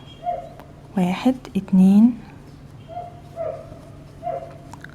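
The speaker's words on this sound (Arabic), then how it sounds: "معلش انا بعتذر عن صوت الكلب اللي باين في الخلفية" A neighbour's dog barks in the background, several short yelps in a quick cluster followed by a few fainter barks, while someone talks over it.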